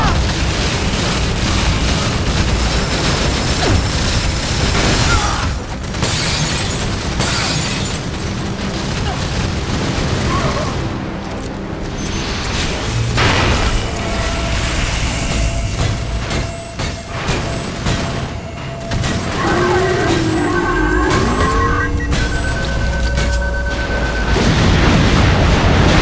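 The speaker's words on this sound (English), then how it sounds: "Lay down suppressive fire." Heavy gunfire and booming explosions in a combat scene from the game Fuse, with a continuous loud barrage of blasts and rumbling, and a voice calling out over the noise.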